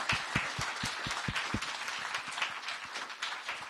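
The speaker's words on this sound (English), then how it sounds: "please just join me in raising your hands and applauding Christine, UST, and the Secretary for hard work" Applause from a conference audience, a scattering of claps at first building into a steady patter of many hands that stays moderate in volume.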